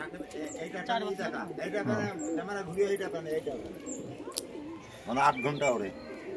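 Pigeons kept by a fancier murmur and coo in low, intermittent calls beneath continuous close-up chatter from people nearby.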